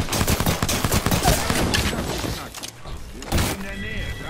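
Volleys of gunfire in the video game Apex Legends crackle rapidly, then thin out to a few scattered shots and thuds, with a voice talking over them.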